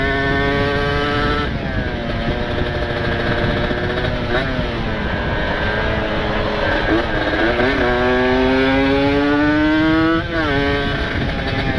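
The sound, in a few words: motorcycle exhaust with ported special engine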